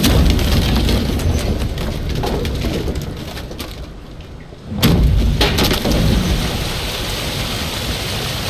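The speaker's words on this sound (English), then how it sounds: "Didn't bargain for no storm." A thunderstorm with heavy rain in the video game Witcher 3: a dense, loud downpour roars continuously, briefly easing before a sharp, booming thunderclap crashes in midway and the rain surges back.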